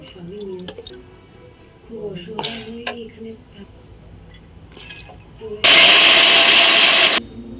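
Soaked chana dal and matar dal being ground make a loud, harsh motor whir that bursts in for about a second and a half near the end. Before it, a voice talks over steady cricket chirping.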